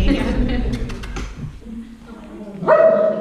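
An excited dog barks and yips at an obedience class, a few quick barks close by, mixed with a person talking and general room noise.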